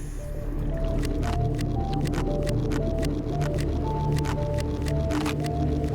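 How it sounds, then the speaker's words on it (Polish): Mushrooms being eaten in the Subnautica video game: a rapid series of wet squishing, crunching bites over a low underwater ambient drone with soft tonal game sounds. "Zjedzmy całe te grzyby."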